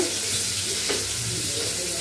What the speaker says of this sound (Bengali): এখানে তো বেগুন ভাজা বসাইলাম, এক পিঠ হয়ে গেছে, উল্টাই দিই।